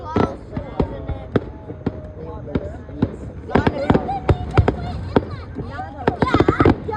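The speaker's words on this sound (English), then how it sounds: "I'm done with these fireworks. This has been going for 13 minutes straight already." Fireworks at a thunder festival burst in a rapid, irregular string of sharp, loud pops and bangs, some clustered closely together, continuing without pause for several seconds.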